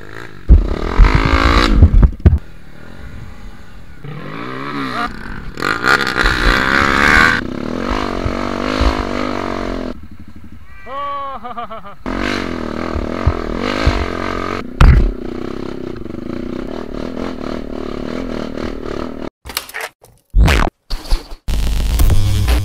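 Trail motorcycles rev hard and repeatedly on a muddy trail during a charity trail-adventure ride in Cibuluh, Cisaga. Loud engines rise and fall close by, with clattering bursts and occasional shouting voices.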